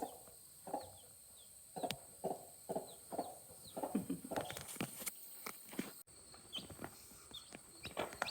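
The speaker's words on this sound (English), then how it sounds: "Look at the chickens." Chickens cluck in a series of short, rhythmic calls close by, with chicks present in the coop area, over a faint outdoor background and some rustling footsteps.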